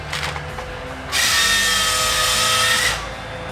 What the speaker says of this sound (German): bei dem das große Komatsu C144 Harvester-Aggregat zeigen kann, welche Schlagkraft in ihm steckt